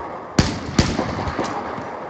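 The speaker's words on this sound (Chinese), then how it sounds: "佢开紧枪系唔中嘅" Gunshots in the Battlefield 4 video game, two sharp loud cracks followed by fainter scattered shots trailing off over steady game background noise, with no talk.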